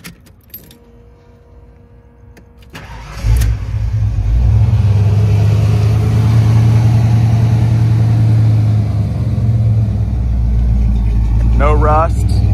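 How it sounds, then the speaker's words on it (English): A 1985 Ford Bronco Eddie Bauer engine cranks briefly, then catches and settles into a loud, steady idle close by, with a faint jingle of keys at the start and a short chirp near the end. "I'll give it a crank here real quick."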